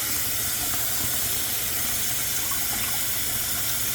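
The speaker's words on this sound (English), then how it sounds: "And the rest, I'm just gonna put it in some water." Water runs steadily into a bowl to soak codfish, a loud, continuous rushing hiss that stays even from start to finish, with no talk.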